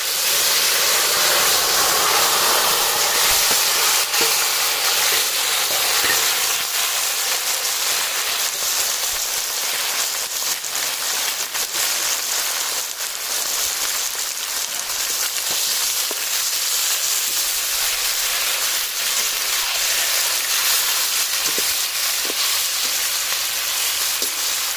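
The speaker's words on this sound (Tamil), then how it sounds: "இப்போ வேக வச்ச சிக்கனை இதில் போட்டுறோம்." Boiled chicken frying in a karahi pan after bay leaf, star anise and cardamom, giving a steady, loud, close sizzle with crackling hiss that holds for the whole stretch, no voices over it.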